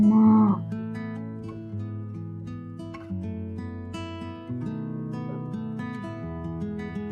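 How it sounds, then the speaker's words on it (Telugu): A single cartoon-style cow moo opens over a steady, bright children's learning tune; the low lowing call is short and sits near the front before the music carries on alone. "ఆవు"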